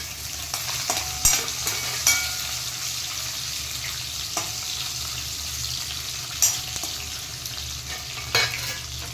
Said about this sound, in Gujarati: હવે જીરું થાય એટલે હું પનીરના ટુકડા એડ કરી દઈશ પહેલાં.